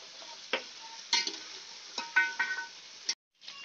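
Mutton korma masala frying on a high flame: a steady sizzle broken by sharp clinks and scrapes of stirring at irregular intervals, close and fairly quiet, with no talking.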